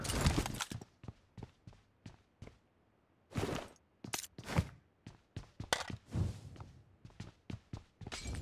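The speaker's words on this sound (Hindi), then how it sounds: "तभी मुझको वेयर हाउस के अंदर से एक बंदे के फुट साउंड आते हैं" An enemy player's footsteps inside a warehouse in BGMI: a run of sharp, irregular thuds and scuffs, fairly close and loud, with brief quiet gaps between clusters and no talking.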